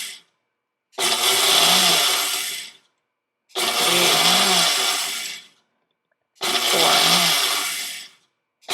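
Three long pulses from a blender grinding freeze-dried cheese into powder, each roaring burst lasting about two seconds with short silent gaps between, loud and close with no talking.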